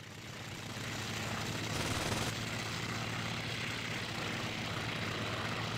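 A fighter plane's engine in the IL-2 Sturmovik flight sim during a night mission, a steady close drone with a low hum, growing slightly louder after the first second and then holding even, no voices.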